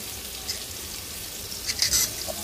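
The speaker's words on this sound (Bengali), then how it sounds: "এখন তরকারি রান্না করার জন্য পেঁয়াজ আর তেল দিলাম, পেঁয়াজটা ভাজবো" Onion frying in oil for a Bengali curry of brinjal, potato and rohu fish, giving a soft, steady sizzle close by, with a brief louder burst of crackling and stirring near the end.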